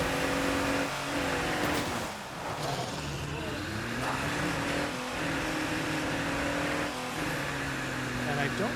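A car engine drones steadily in a zombie survival video game while the car takes damage, with rising and falling revs throughout and a voice talking over it.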